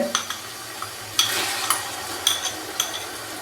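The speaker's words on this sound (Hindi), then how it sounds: "साबुत खड़े मसाले डालने के बाद अभी मैं इसको मज़ीद हल्का सा फ्राई करूँगा।" Whole spices and finely chopped large tomatoes fry in a pot, giving a soft steady sizzle with a few brief clinks and scrapes of a spoon stirring, close and fairly quiet, with no talk.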